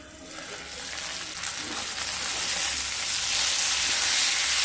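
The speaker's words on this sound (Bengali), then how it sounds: "একটু নেড়ে নিলাম আবারও।" Bitter gourd curry sizzles steadily in a pan while being stirred, a continuous close frying hiss that grows slightly louder across the clip.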